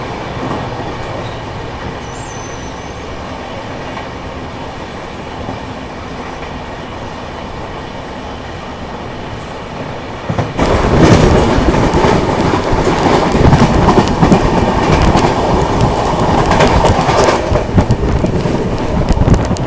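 Howrah Rajdhani Express passenger train running on rails, a steady rumbling roll with clickety-clack and wheel noise that grows suddenly louder and harsher midway, continuing loud to the end with no voices.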